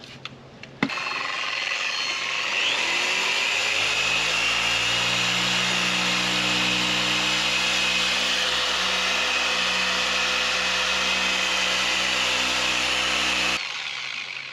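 Power polisher buffing the bumpers of a barn-found 1969 Buick Wildcat with a worn pad: a click, then a motor winds up into a loud, close, steady whine and hum lasting over ten seconds before cutting off.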